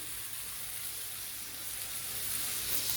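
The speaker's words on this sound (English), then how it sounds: "So I'm only going to sear one side of this" A thick tomahawk steak sears on one side in a hot pan, giving a steady, fairly loud broadband sizzle that swells slightly toward the end, with no talking.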